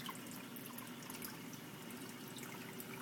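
Water trickling slowly into a reef fish tank holding corals and fish, a faint steady splash and dribble with no voices.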